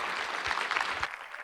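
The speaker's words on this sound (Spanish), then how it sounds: "Dale un fuerte aplauso a Jesús" A church congregation applauds during a Spanish-language sermon on Halloween and Christians, a short burst of steady clapping that fills the room at moderate loudness, with no talking over it.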